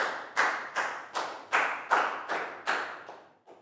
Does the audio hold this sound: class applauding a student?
yes